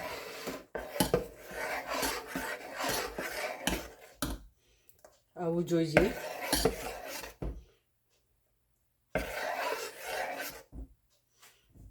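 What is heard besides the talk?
mixing pearl millet flour dosa batter with a spoon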